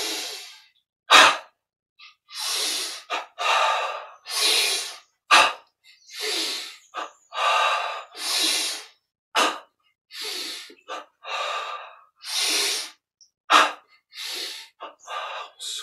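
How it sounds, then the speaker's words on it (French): Slow, deep breaths in and out during a guided yoga meditation exercise, each inhale and exhale clearly audible and close, with pauses between them and no talking. "Inspire, expire librement."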